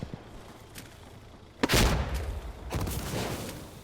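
Gunfire in the video game Insurgency: Sandstorm, with two sharp, loud bursts of shots and their echoes following a quieter rumbling stretch.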